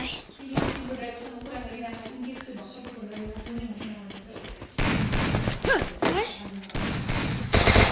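Gunfire in the battle game Free Fire, with bursts of rapid shots crackling densely through the second half, loud and close, while a player talks excitedly over the early part.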